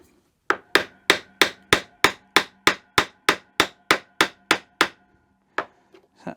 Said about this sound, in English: So what I'm going to do is go halfway between that material and chisel that off first.